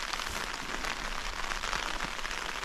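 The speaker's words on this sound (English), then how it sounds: "It's quite heavy now, the rain." Heavy rain drums steadily on a taut tent nearby, a dense, constant patter with no voices.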